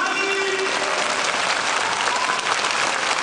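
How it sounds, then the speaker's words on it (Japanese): Loud, dense applause fills the arena after the final skater's program at a figure skating world championship in Aichi, a sustained roar of clapping from the whole crowd. "あの大きな拍手、それにも負けない大きな拍手が今その中野ゆかり上から横から降り注いでいます"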